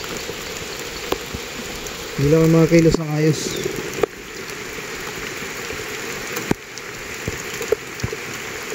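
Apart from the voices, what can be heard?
heavy rain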